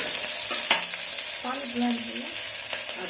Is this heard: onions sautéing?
yes